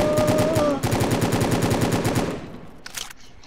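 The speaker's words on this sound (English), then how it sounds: "he's getting sniped from this angle" Video game gunfire rattles in a rapid, loud, rhythmic burst of evenly spaced shots for about two seconds. It then fades out, leaving brief faint clicks.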